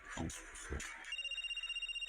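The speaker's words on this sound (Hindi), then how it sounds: "थोड़ी देर बाद फिर से फोन की घंटी बजती है।" A brief voice is followed by a telephone ringing, a rapid pulsing electronic trill repeating steadily and fairly quiet.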